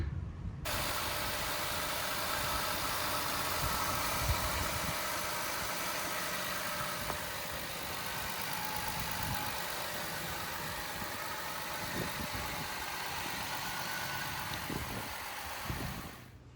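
A 2007-2011 Jeep Wrangler JK 3.8L engine idles steadily and evenly for the whole stretch after a serpentine belt replacement, a constant mid-pitched rumble with no revving and no voices.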